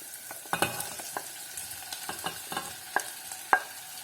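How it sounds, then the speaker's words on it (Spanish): Onions and ginger being stirred in a frying pan, a spoon scraping and knocking in repeated uneven strokes over a soft, steady sizzle, with no voices. "vamos a dejar un par de minutos aquí removiendo con el jengibre"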